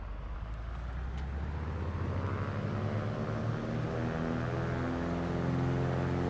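A Carenado Cessna 182 RG II propeller engine in a flight simulator builds from a low drone into a rising, steady roar during the takeoff run, with no talk over it.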